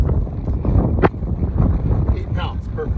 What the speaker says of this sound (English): It was the windiest day I think I've ever had at the track.